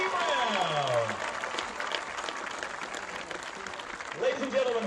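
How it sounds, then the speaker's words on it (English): Crowd applause and cheering in the stands at a Central Valley vs West Allegheny varsity high school football game on Pink Out Night, steady across the stadium while an announcer's voice booms over the PA at the start and end. "how about one more big round of applause for our cancer survivors on Pink Out Night at Central Valley High School"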